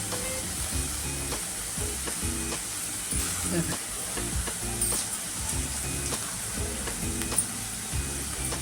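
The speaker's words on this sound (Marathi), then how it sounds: "अशी तेलावर परतून द्यायची" Tomato and onion frying in oil for Maharashtrian matki usal, a continuous soft sizzle with occasional stirring scrapes, heard close and under quiet background sounds.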